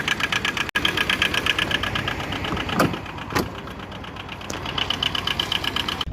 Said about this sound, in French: le grondement du moteur n'est pas vraiment agréable.